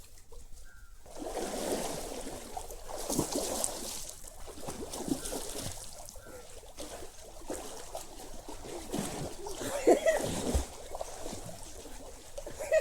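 Water splashes and sloshes steadily as someone swims in a resort pool, with continuous churning and dribbling close by and a few sharper splashes near the end.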